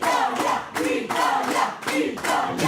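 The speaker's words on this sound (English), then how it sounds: "I can hear Italia ringing out in the crowd" Italian fans chanting "Italia" at a European Open Touch Championships match, a loud rhythmic crowd chant in regular bursts paired with clapping, repeating steadily and close.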